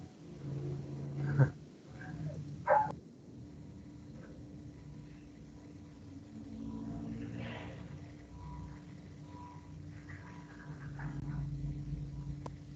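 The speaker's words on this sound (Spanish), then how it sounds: "estaban ladrando mis perritos" Small pet dogs bark and whimper in a few brief yelps early on, then fade into quieter whines and faint breathing noises over a steady low hum, with no talking.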